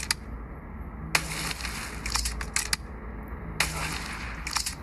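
Sniper rifle shots in the mobile game Ghost Sniper: a few sharp, separate gunshot cracks over a steady hum of game background noise, with short bursts of rattling.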